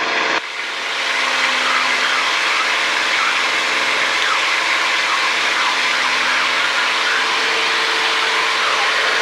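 A 1954 De Havilland Super Chipmunk aerobatic airplane's engine roars steadily at full takeoff power, a loud, dense drone heard close from inside the aircraft with no talk over it.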